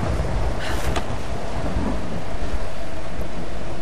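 Thunder rolling through a lightning snowstorm in Tomb Raider, a loud, sustained rumble with a brief sharp crackle near the start, filling the scene continuously with no speech.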